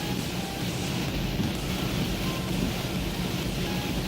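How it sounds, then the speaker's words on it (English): Heavy rain roars steadily around a car driving in traffic, a dense continuous wash of water noise and wind with no breaks, loud and close throughout. "Still raining. It's getting worse."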